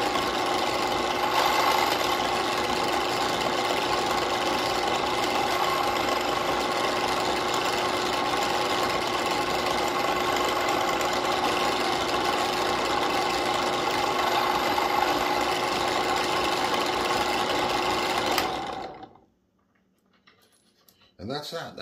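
A motorized brass prep station whirs steadily as it bevels 300 Blackout rifle cases and opens their flash holes to 0.080 inch. The loud, continuous hum runs close up for about eighteen seconds, then stops abruptly into near silence.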